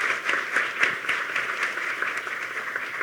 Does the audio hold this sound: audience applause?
yes